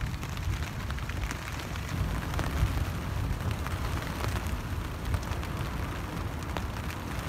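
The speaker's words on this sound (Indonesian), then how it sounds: "Ini suara anginnya itu benar-benar kencang sih di sana." Strong wind blowing outside a tent on Mount Prau, a steady dense roar with gusting swells and flapping rustle, fairly faint and continuous with no talking.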